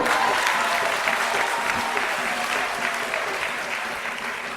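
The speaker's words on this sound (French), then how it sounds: "applaudissez pour lui" A church congregation applauds steadily and loudly throughout, a dense continuous clapping that fades slightly toward the end, with no voices standing out.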